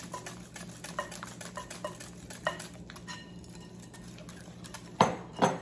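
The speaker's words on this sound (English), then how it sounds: "I'm going to whisk it the whole time" Repeated quick scraping and clinking of a whisk against a bowl of chocolate pudding, a steady rhythmic whisking with a couple of louder knocks near the end.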